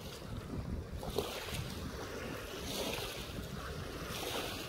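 Floodwater at Mangla Dam near a submerged village washes and churns in a low, continuous rush, mixed with gusty wind buffeting the microphone, fairly faint and without talk.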